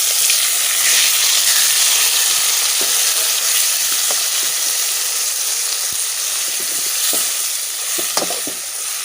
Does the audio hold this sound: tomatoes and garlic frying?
yes